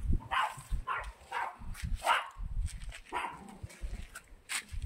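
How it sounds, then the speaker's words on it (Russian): An angry dog barking repeatedly, close by and loud, with a rhythmic series of harsh barks and some whimpering yips between them. "Вот она, злющая собака."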